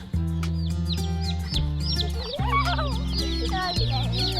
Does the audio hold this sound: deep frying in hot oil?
no